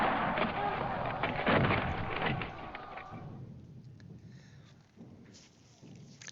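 Artillery and gunfire of an assault in the Panzer Campaigns wargame: a dense, rumbling barrage with crackling shots fills the first few seconds, then fades into a quieter tail with a few faint, distant reports.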